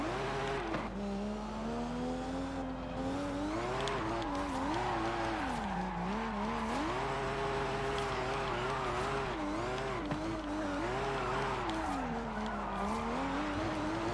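A Nissan Fairlady Z 300ZX fitted with a Skyline engine drifts in Forza Horizon 5 through Guanajuato, its engine note rising and falling continuously under sustained tire squeal, loud and steady throughout with no talking.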